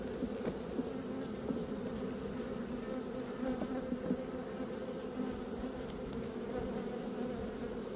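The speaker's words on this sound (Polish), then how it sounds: "A tu się pszczoły potem denerwują" A steady, dense buzzing of many honey bees around a hive close to swarming, constant and fairly quiet, with no voices.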